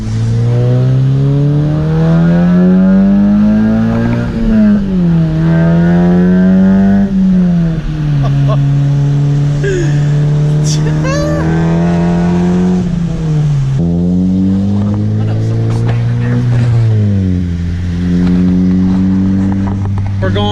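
A 9th-generation Honda Civic Si (FB6) engine pulls hard through the gears, loud and close, with rising revs, brief shift dips and a steady climbing drone throughout.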